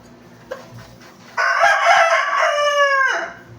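Backyard gamecock rooster crowing once, loud and close, a drawn-out cock-a-doodle-doo after a brief faint sound, with no talk.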